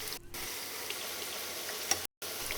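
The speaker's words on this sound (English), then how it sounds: "When you drop it in the oil, your bhaji must sizzle and float." Onion bhajis frying in hot oil give a steady, close sizzle that runs throughout with no voices, broken by one brief sharp click near the end.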